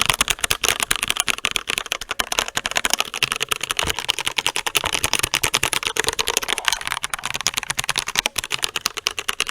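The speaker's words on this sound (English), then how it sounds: "Let's do a quick listen to the way the keyboard sounds" Rapid, fairly steady clicking of an RK98 100-key keyboard being typed on, crisp keystrokes heard up close and alone with no talk.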